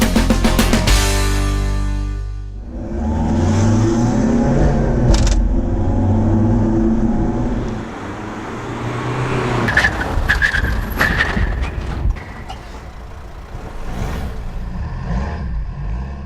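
Two cars, set up to show the effect of defective shock absorbers, brake hard in an emergency stop: engine noise at first, then a long rough skidding rush of tyres that fades and returns in bursts, with no voices.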